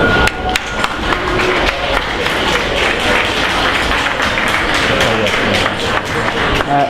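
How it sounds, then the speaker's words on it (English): An audience at a youth hackathon show-and-tell applauds, a dense, loud, steady wash of clapping that fills the whole stretch with a few sharper individual claps. "Can we have a round of applause for him?"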